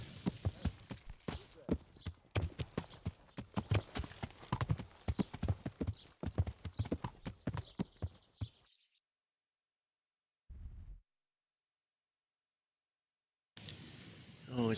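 In the video game Kingdom Come: Deliverance, a ridden horse's hooves clatter in quick, steady beats up close on a farm for about eight seconds, then go quiet apart from a short thud and a final burst of sound.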